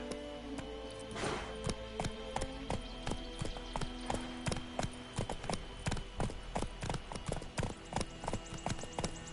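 Roach the horse trotting in The Witcher 3, a steady run of close, crisp hoof clip-clops on hard ground with a brief rustling swell near the start, and no voices.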